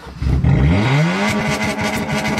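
A loud, raw car engine with its exhaust fallen off revs up sharply and then settles into a rough, rattling idle nearby, with an unmuffled, blatting tone.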